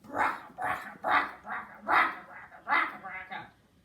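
A voice imitates a noisy old car with a run of rough, sputtering bursts, about eight pulses in a steady chugging rhythm, close and fairly loud.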